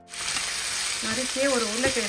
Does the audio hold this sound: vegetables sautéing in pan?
yes